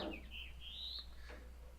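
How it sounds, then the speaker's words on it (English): Birds singing outdoors near a 10-ball pool match broadcast, faint chirps and a drawn-out whistling call over a low steady hum. "Birds are killing me right now. Can you guys hear the birds on the stream?"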